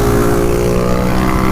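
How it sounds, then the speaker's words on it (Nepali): Several motorcycles, including a CF450 and a CBR650, warm up before a group ride, their engines holding a loud, steady idling drone throughout. "सो सबजना आफ्नो बाइक तताउँदैछन्"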